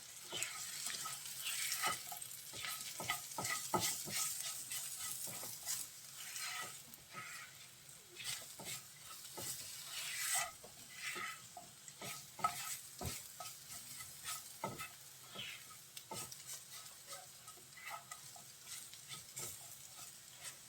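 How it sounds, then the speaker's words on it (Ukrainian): Mushrooms fry in a pan while being stirred, with a soft steady sizzle broken by repeated scraping and clacking strokes of the utensil, close and fairly quiet, with no talking. "Хай підсмажиться грибочок."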